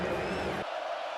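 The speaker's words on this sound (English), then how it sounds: "And you hear the Autzen crowd voice its displeasure." Crowd at Autzen Stadium during an Oregon versus Boise State college football game, a loud, sustained roar of displeasure that abruptly drops off partway through.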